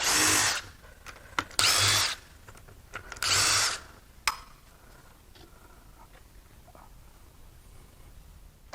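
A power tool whirs in three short, loud bursts as loose bolts come out of the valley cover of an aluminum 5.3L Trailblazer engine, followed by small clinks and quiet handling.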